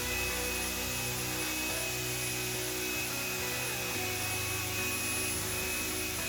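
A hair dryer blows continuously while hair is dried, a loud dense whooshing roar with a steady high whine and low motor hum, unbroken and close.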